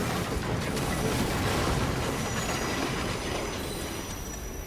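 A train in Assassin's Creed Unity rolls past as a loud, continuous rumble, with faint wheel squeal and rattling, holding steady before easing slightly at the end.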